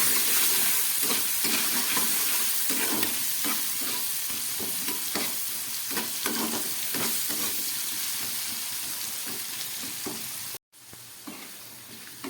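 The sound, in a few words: potatoes frying with turmeric and salt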